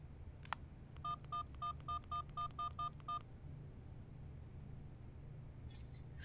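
A telephone keypad dialing a number: a click, then nine evenly spaced touch-tone beeps in quick succession, clear and close, followed by quiet room hiss.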